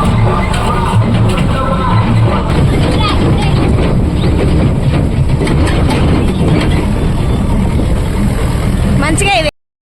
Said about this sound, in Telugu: ఏంటి ట్రాక్టర్లో వెళ్తున్నాం అనుకోకండి